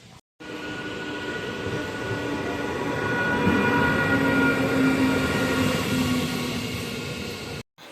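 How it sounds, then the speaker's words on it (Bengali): A train rolls into a station, its steady rumble and rail noise building and holding close for several seconds with a faint tonal whine, no talk. "তো দেখতেই পেলে ট্রেন এসে গিয়েছে"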